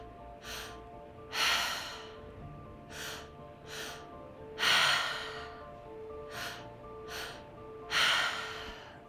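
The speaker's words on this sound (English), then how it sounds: "Nice deep breaths here. Breathing down into the belly, up into the chest, exhaling everything out through the mouth to release." Deep rhythmic breathing during a breathwork session, with several forceful breaths, and long airy exhales through the mouth standing out at regular intervals, heard close up over soft ambient music.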